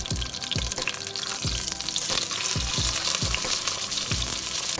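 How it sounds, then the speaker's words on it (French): Magret de canard, a duck breast, sears in a very hot frying pan, giving a continuous crackling sizzle with bursts of fat popping, moderately loud and close, with no voices. "tu le saisis 2 minutes de chaque côté dans une poêle bien chaude."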